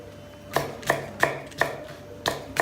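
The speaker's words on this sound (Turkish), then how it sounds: "Üç tane de yeşil biber doğruyorum." Green peppers chopped with a knife on a board: six crisp, evenly spaced chops about a third of a second apart, close and clear with no talk.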